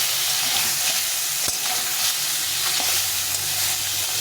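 Oil-coated tengra fish are turned over in a pan of hot oil, giving a constant bright sizzle and hiss close by, broken by a few soft clinks and scrapes of the turning utensil.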